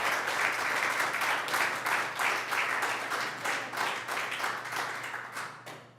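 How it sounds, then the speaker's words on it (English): An audience at a school board of education meeting breaks into sustained applause, many hands clapping together in a dense steady patter that gradually fades near the end. "Please, please join me in giving a round of applause to Chris."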